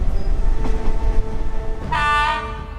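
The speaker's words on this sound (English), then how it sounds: "Soon the train was encountering tunnels." A train runs through a short tunnel, its steady rumble and wheel noise loud and close, then a bright horn-like tonal blast rises near the end.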